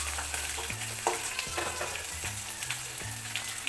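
Grated ginger, green chilies and curry leaves frying in oil for poha, a continuous close sizzle broken by a few spatula scrapes against the pan.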